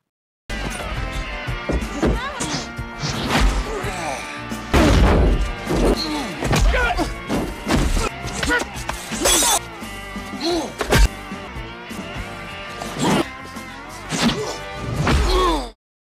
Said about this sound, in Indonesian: terjadilah perkelahian yang dimenangkan oleh Chance.